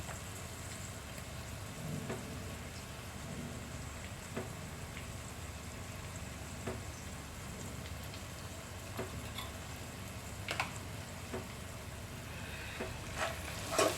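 Onion paste sizzles in a pan with salt and chilli powder as it is stirred for a prawn curry, a steady soft frying hiss with occasional faint scrapes and clicks.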